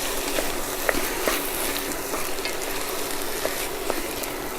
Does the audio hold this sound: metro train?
no